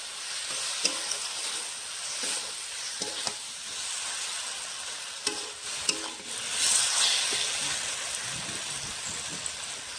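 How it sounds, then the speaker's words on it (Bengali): Softened tomatoes are sautéed in a pan for a rohu fish curry, a loud crackling sizzle broken by sharp scrapes and stirs of a spatula, with a brief hiss swelling near the end. "এখন টমেটোটা কষাবো।"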